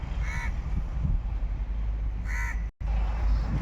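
A crow on a ship's gun deck at a beach caws twice, harsh calls at about a quarter second and two and a half seconds, over a low rumble of wind and surf.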